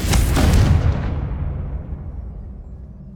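A Confringo spell blast in the Hogwarts Legacy video game erupts as one loud, booming explosion that hits hard at once and then trails off into a long, rumbling decay.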